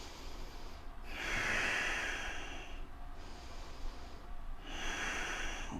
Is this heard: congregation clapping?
no